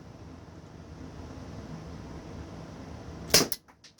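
Umarex T4E Walther PDP Compact training marker firing aluminum balls, a single sharp crack standing out after a quiet background hiss, with a brief trailing rattle.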